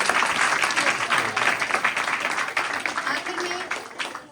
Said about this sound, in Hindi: आइए एक जोरदार ताली इन नन्हे मुन्ने बच्चों के लिए।